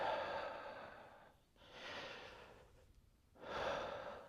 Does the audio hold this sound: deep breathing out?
yes